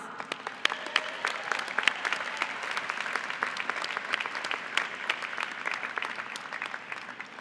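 An audience at a university diploma and awards ceremony gives steady applause, many distinct claps forming a moderate, even patter that continues without a break.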